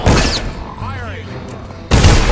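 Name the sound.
guard firing gun, from video game Dishonored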